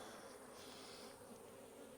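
A quiet, steady buzz of honeybees while a colony is split into two boxes, with a continuous hum of many wings close by and no voices.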